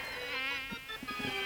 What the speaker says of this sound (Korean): 이렇게 자꾸 모기가 다니기도 하는데